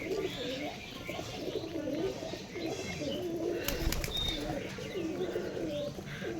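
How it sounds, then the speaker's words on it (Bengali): A male high-flying pigeon coos in a steady, rumbling run among other birds, with a brief flutter of wings partway through and a low background murmur. "এখন এই যে ডাববালা মদ্দাটা গুটুরগু করে যাচ্ছে"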